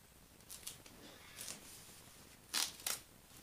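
Tape on a diamond painting kit package is cut open with a few sharp, crisp snips and rips, close and quiet, the loudest pair coming near the end.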